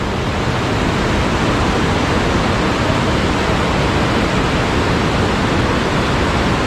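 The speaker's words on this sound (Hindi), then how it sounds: "तो यहाँ 3 नदियों का संगम है।" Rushing river water at the confluence of three rivers in Harshil, a loud, continuous roar that stays even and close from start to finish, with no talking.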